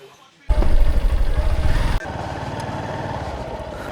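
A motorcycle rides off-road on a rough trail near Lama. The engine roars loudly and unevenly for about a second and a half, then drops to a steadier, lower running drone close by.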